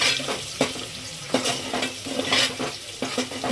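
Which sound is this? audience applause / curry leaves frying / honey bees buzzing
curry leaves frying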